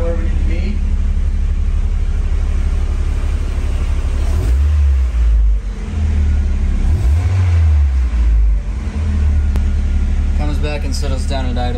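A Mazda Miata 1.8 engine idles steadily with a loud, continuous low rumble, its pitch dipping and shifting a few times as the idle is adjusted, with a voice talking over it.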